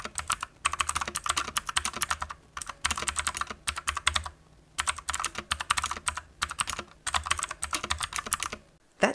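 Rapid clicky typing on a Redragon K552 Kumura mechanical keyboard with imitation blue switches, in bursts with short pauses between, close and crisp, no voices.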